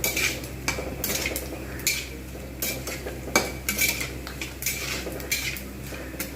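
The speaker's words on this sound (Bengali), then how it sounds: "আর একটু ভাজবো।" Peanuts, pumpkin and pointed gourd fry in oil with a light background sizzle, while a metal spatula clinks and scrapes against the pan in irregular strokes.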